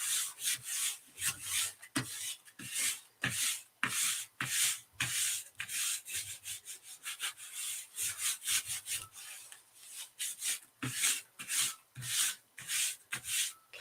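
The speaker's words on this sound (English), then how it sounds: "So I'm going to take this paper and I'm going to lay it on top. And this one too. I'm just going to rub to get the extra paint off." Paper rubbed by hand over fresh paint on an art surface to lift the excess, a steady series of close, dry scratchy strokes in quick repeated rhythm, alone with no talking.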